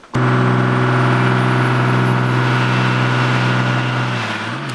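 Mercedes OM606 diesel engine fitted with a budget turbo kit running on a dyno: a loud, steady droning hum held at constant pitch for several seconds, easing slightly near the end, with no talking.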